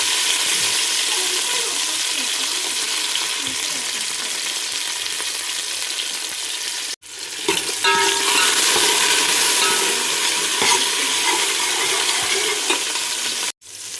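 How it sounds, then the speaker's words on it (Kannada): Mint, turmeric and tomato stir-fried in oil for a chicken sambar gravy, a loud steady sizzle with stirring scrapes close up, broken by two abrupt cuts to near silence. "ನೋಡಿ, ಈಗೆಲ್ಲನೂ ಚೆನ್ನಾಗಿ ಎಣ್ಣೆಯಲ್ಲಿ ಫ್ರೈ ಮಾಡ್ಕೊಂಡಿದ್ದೀನಿ"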